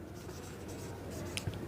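A pen scratches across paper as the word hospital is written out, a close, continuous scribbling with a couple of sharper taps near the end and no voice.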